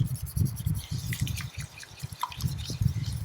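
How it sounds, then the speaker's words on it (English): A bamboo matcha whisk beats matcha powder in a small bowl, giving rapid, close, wet swishing and dripping strokes in an even rhythm with brief pauses. "let's try and use our matcha whisk and see how it goes"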